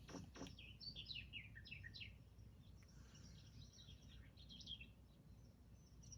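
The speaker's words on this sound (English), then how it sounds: "listen to the bird noises here in this overworld area" Bird calls in a video game overworld area, a series of bright chirps and whistled phrases in quick bursts over a steady low ambient bed, with no talking.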